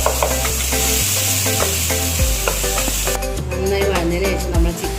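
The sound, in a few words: tomato puree added to sizzling onions in a pan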